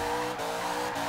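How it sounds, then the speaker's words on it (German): A Chevrolet Camaro Z/28 drifting at a harbor in Forza Horizon 2, its tires squealing in a sustained, loud screech over a steady engine drone. "E-Drift eingeleitet."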